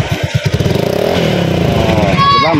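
A Honda Click scooter engine idles and revs steadily, its low rumble continuous throughout, with some talking mixed in near the start.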